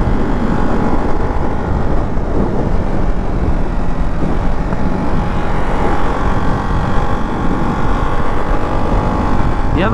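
Single-cylinder Ducati Hypermotard 698 Mono motorcycle with no exhaust, ridden at steady speed, a loud continuous engine drone mixed with heavy wind rush throughout.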